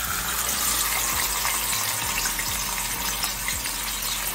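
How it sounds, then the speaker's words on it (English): Marinated fish for Jamaican escovitch fish frying in hot oil in a pot, a steady loud bubbling sizzle and crackle throughout with no talking. "And the oil is hot. You always have to make sure that the oil is hot."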